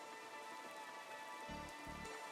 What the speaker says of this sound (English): I can't stand the rain.